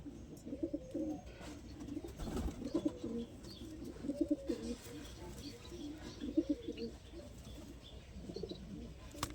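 Low, repeated cooing from moulting pigeons in soft rolling bursts, steady through the clip with faint background noise and no clear talk.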